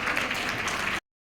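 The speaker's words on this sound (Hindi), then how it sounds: "ताली बजा के उनका स्वागत करें।" An audience at a Christmas celebration claps to welcome a group of dancers, a dense burst of applause that stops abruptly.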